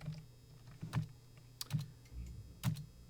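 Keys tapped on a computer keyboard in a few separate bursts, close and fairly quiet, with short pauses between the clusters of clicks.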